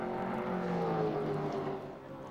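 Cenovis touring car racing at Bathurst in 1994, its engine a steady droning roar with layered harmonic tones that rises slightly then eases off as the car passes, heard alone without talk.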